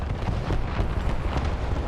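In War Thunder, an I-16 plane strafes an M3 GMC tank, producing a dense, continuous roar of gunfire and impacts with rapid rumbling bursts layered throughout, loud and close.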